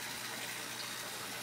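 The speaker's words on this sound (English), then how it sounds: "water gets drained into a pipe that's under the ground." Water from an aquaponics tank drains into an underground pipe with a steady, even rushing hiss, faint and unbroken throughout, with no voices.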